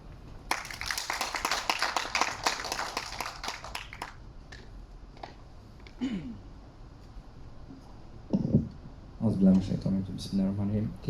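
A crowd at a presentation applauds to welcome a guest speaker, a dense burst of clapping for several seconds that fades into scattered claps, followed by a voice speaking.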